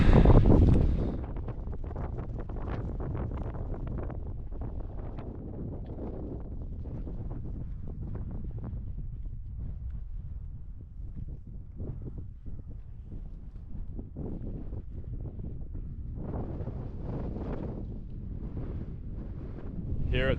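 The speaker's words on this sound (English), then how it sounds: "It's a bit of wind, it's quite chilly." Steady wind buffets the microphone in a chilly mountain valley at the Dragon's Teeth in Kahurangi, New Zealand, a continuous low rumbling roar throughout with a stronger gust at the start.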